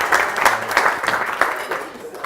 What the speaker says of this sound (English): So a big round of applause for Darren.